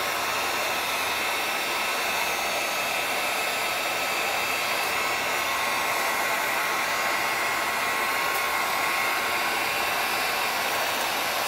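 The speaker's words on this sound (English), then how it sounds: "So the heat gun will warm that up and it should move after that" Heat gun blowing hot air on stiff, rock-hard rubber on a Honda CR250 dirt bike: a continuous loud, even rushing whoosh of airflow, unchanging throughout, with no speech.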